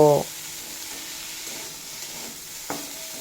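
Kulekhara greens frying with salt and turmeric in a pan, with a brief clatter of stirring at the start and a soft, steady sizzle carrying through, and another short scrape near the end.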